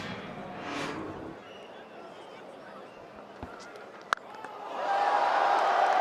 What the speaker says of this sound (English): big roar from the home faithful